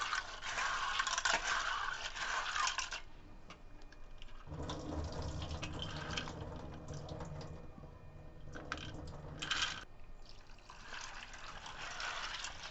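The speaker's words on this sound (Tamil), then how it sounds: "இதை நல்லா தண்ணி ஊற்றி வாஷ் பண்ணிக்கலாம்" Water splashes and sloshes against grains in a container, with scraping and swirling, close by, pausing briefly midway before the rinsing resumes.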